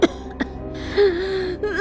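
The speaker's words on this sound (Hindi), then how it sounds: "सोनल को बहुत खांसी आ रही थी" A few short coughs and throat-clearing sounds from a girl in an animated story, close and distinct, with a strained vocal whimper between them.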